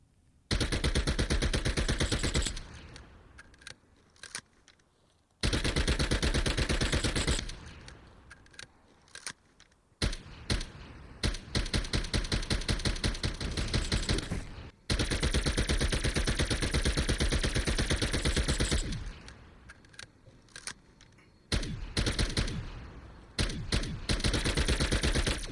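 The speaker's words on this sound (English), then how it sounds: "I will first let you listen to the full automatic version of this submachine gun" Tec-9 submachine gun firing full auto in Call of Duty Cold War Zombies, several long loud bursts of rapid gunfire separated by short pauses, with no voices.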